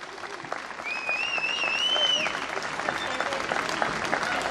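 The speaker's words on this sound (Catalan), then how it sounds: "Vinga, este fort aplaudiment per ell." At a folk dance festival, an audience applauds a performer with sustained clapping, while a voice and a brief whistle-like tone carry over the crowd.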